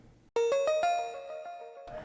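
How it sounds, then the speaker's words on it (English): A bit-crushed bell used as ear candy in a pop rock track plays a short rising run of bright, gritty, ringing notes, then a sustained tone that decays, fairly clear and alone. "I just added this little like bell that I bit crushed by quite a bit"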